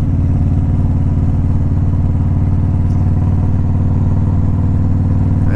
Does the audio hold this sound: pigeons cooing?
no